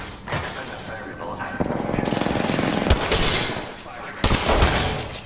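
Rapid automatic gunfire from Apex Legends, a fast rattling burst in the middle with single loud shots before and after, close and loud over game noise and a voice.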